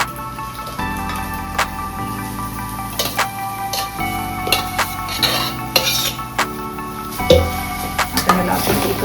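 A spoon stirs tomato puree into fried ginger, garlic and green chilli in a pan for a momos chutney, with steady scraping and clinking over a continuous soft sizzle.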